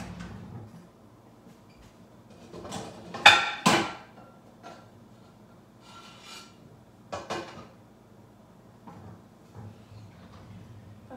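Metal pans clatter and clank in a home kitchen while breakfast eggs are being prepared, with scattered knocks and scrapes and a loud cluster of bangs near the middle, set against quiet room background.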